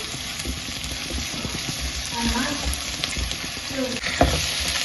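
Potatoes fry in a pan with about a spoonful of garlic ginger paste, giving a steady soft sizzle with occasional stirring scrapes and clinks, close and continuous throughout.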